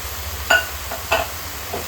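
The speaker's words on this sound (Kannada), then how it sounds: "ಇವಾಗ ರುಬ್ಬಿದ ಮಸಾಲೆ ಸೇರಿಸ್ಕೊಳ್ಳೋಣ" Ground masala is stirred into goat head curry sizzling in a pan, giving a soft background fry with three distinct scraping strokes of a spoon, the first two clearer and the last fainter.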